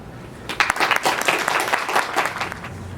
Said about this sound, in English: Join me for a loud round of applause for all the heroes